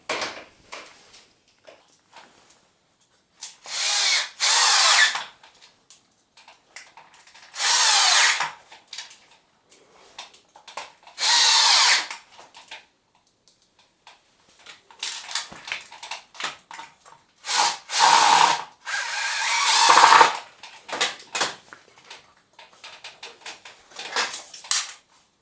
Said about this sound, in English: I'll set it on top and I'll drill some holes.